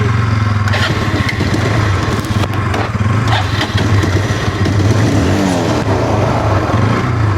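A motorcycle engine runs close by with a loud, steady low rumble and some rattling, but no clear start or rev is evident, and there is no speech.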